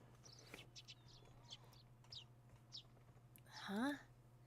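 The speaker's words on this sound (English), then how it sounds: "The chirping of birds served as my alarm clock." Birds chirp in a quiet morning scene from the Higurashi visual novel, with several short, faint tweets spread over a few seconds and a low steady hum underneath, ending in one louder rising call.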